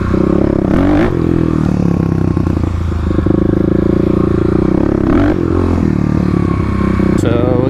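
A Kawasaki KLX351 dirt bike ridden through city streets while popping the clutch for wheelies, its engine droning loud and constant up close, with brief surges and rattles over a steady roar.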